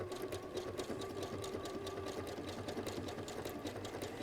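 A domestic sewing machine running a decorative stitch, its motor humming in a fast, steady mechanical rhythm of needle strokes, close and continuous with no talk.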